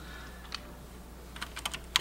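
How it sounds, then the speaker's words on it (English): Keycaps are pried off a dirty computer keyboard with a key remover, making a few sharp plastic clicks close by, sparse at first and then quicker, over a faint steady hum. "So let's go ahead and finish removing the keys."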